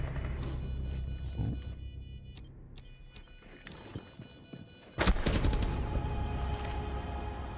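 Gunfire in Rainbow Six Siege, scattered single shots and short bursts at moderate distance, then a loud close burst of sustained firing that continues to the end.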